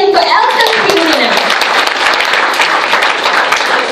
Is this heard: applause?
yes